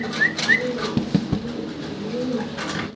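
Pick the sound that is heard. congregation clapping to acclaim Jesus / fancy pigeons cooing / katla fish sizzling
fancy pigeons cooing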